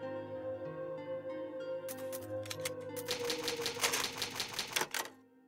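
Typewriter save using an ink ribbon in Resident Evil HD Remaster: a sustained musical tone gives way to a quick run of crisp mechanical key clacks and a carriage ding, clear and fairly loud.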